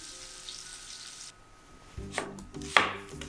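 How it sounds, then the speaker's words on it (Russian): A knife finely chopping onion on a cutting board, a run of quick close knocks after a short pause, with a faint background hiss of bacon frying in a pan on the stove. "Лук мелко нарезаем"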